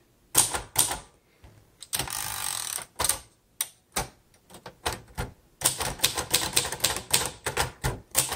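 A pink 1956 Royal Quiet De Luxe manual typewriter clatters with crisp, close key strikes in uneven bursts, broken by short pauses and a longer ratcheting sweep of the carriage.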